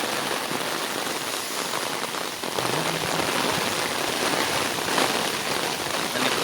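Torrential monsoon downpour in Konkan near a flooding river, a thick continuous hiss of rain pounding surfaces nearby, holding steady with slight swells and no talking.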